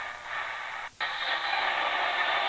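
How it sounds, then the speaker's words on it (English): Steady shortwave radio hiss and static from time station WWV on 5 megahertz, received on a Sony SW77 or Tecsun PL-680, cutting out briefly near the one-second mark before resuming at the same level. "There's WWV on 5 megahertz. It's there with some other noise."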